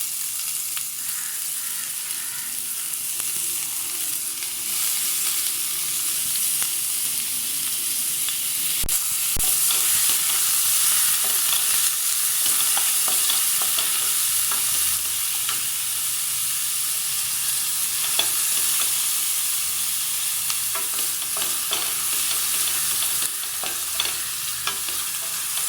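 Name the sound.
onions frying in hot oil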